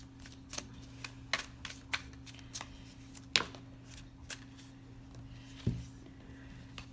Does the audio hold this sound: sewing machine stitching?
no